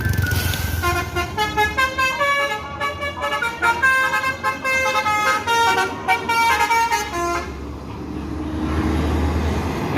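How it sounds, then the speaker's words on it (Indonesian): A bus sounding a musical multi-tone horn, a rapid melodic sequence of bright toots repeating for about eight seconds over road traffic noise, then fading to engine rumble. "Nekat membunyikan klakson padahal dilarang oleh LLAJ nih."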